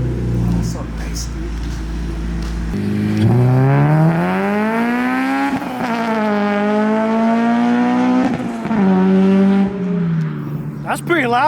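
An 8th-generation Honda Civic Si with a Full Race exhaust revs loudly up and down in several rising and falling pulls, close by, with someone talking over it.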